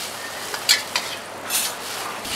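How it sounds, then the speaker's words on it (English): Kuey teow noodles with garlic are stir-fried in a wok for Penang char kuey teow, a steady close sizzle broken by a few louder scraping tosses of the spatula. "Throw in the loosened up kuey teow."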